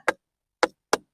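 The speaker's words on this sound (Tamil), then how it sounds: "இந்த கற்களை தட்டினா சத்தம் வருது." Lower stones in a Sennelkudi temple are tapped, giving three short, dull knocks with no ringing tone, close and fairly quiet, spaced unevenly with silence between them.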